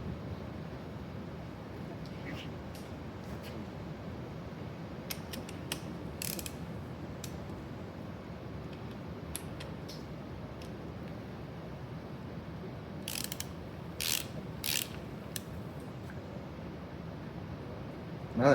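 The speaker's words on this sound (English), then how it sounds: "All right, here's the torque wrench." A torque wrench ratchets while tightening bolts on a rat rod engine in a garage, a steady low mechanical rumble carrying scattered faint clicks, with sharper bursts of ratcheting near the end and no talking.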